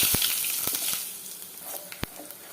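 Ground spice powder sautés in a pan for a tomato pulao with a soft, steady sizzle, and a few sharp clicks of a spoon against the pan cut through it.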